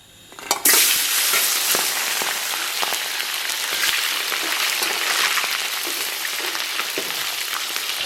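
Scallion, ginger and garlic drop into hot oil in a wok, setting off a sudden loud burst of sizzling that settles into a steady, dense frying hiss with occasional crackles, close and continuous with no voices.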